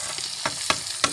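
Masala of cumin, tomato and green coriander roasting in a pan, a steady close sizzle broken by three short scraping stirs.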